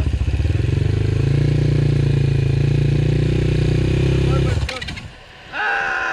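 A 250cc motorcycle engine on a practice ride drones loudly and steadily close by for several seconds, then drops off abruptly with some clatter before a brief return of sound.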